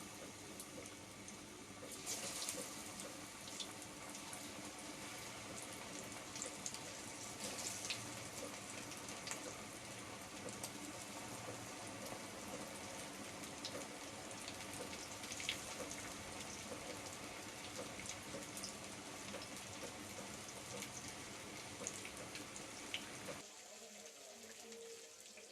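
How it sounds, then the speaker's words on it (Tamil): Chicken pieces frying in hot oil in a pan for chicken Monica, a steady dense sizzle and crackle running loud and continuous until it drops away near the end. "இந்த டைம் நம்ம சிக்கன் எல்லாம் இதில் போட்டு ஃப்ரை பண்ணிக்கலாம்."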